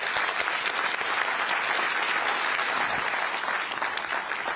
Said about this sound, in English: let's give a big round of applause to General Cavalli